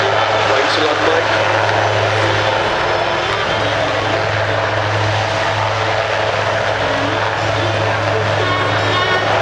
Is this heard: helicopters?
yes